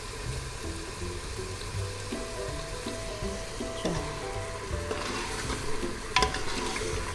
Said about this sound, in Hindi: सूखा धनिया और सफ़ेद ज़ीरा डाल के तकरीबन 1 मिनट इसको भूनना है।